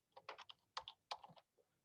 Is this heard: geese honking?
no